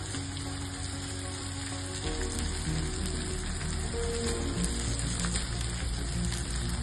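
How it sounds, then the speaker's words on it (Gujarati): Ginger sautés in hot ghee, a continuous close sizzle and crackle with a steady hiss that thickens partway through, without any talk. "તો હવે આપણે એમાં એડ કરીશું જિંજર. એને થોડું સાંતળી લઈશું"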